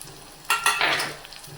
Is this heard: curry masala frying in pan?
yes